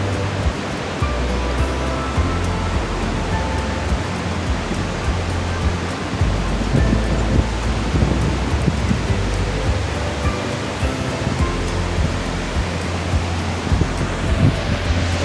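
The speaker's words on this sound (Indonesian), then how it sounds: "air terjun Kedabuhan" Kedabuhan waterfall pours in a constant broad roar of rushing water, steady and loud from start to finish, with wind buffeting the microphone and no voices.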